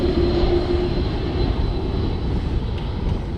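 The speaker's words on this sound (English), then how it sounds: "There's a low-flying plane landing in" A low-flying plane comes in to land at Cairns Airport, its engine a loud, steady drone holding close overhead throughout, with outdoor ambience beneath.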